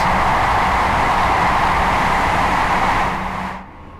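Train Sim World 4 locomotive on the East Coast Main Line running through a tunnel, a loud, dense roaring hiss that holds steady and then drops away sharply near the end as the train exits; no speech.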